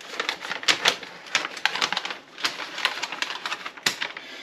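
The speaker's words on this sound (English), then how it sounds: "These things are easy to cut if you got some good scissors." Good scissors snip through a Mylar vacuum sealer bag, giving a quick series of close, crisp crinkling cuts and crackles in an irregular rhythm, with short pauses between bursts.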